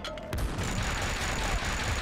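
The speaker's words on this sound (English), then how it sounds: "there's more grenades!" Grenade blasts in the Max Payne shooter: a sharp burst at the start, then rumbling booms and a dense gunfight din continuing loudly afterward.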